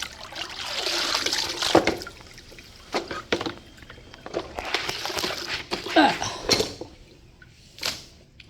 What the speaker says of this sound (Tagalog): Ito yung huling punas natin ng tubig.